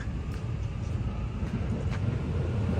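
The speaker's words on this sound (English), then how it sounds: "Mario USJ train." JR train in a Mario theme, bound for Universal Studios Japan, rolls past on the Osaka line with a steady, fairly loud low rumble and a few faint rail squeals, no voices over it.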